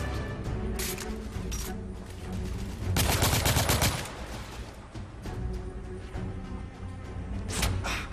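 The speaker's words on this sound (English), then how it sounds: "This is a huge gunfight" Heavy gunfire in the third-person shooter The Order: 1886, a big firefight of rapid automatic bursts and single shots, loud and continuous with several sharp heavier blasts.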